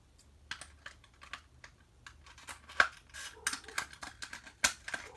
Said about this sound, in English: let me just rip it off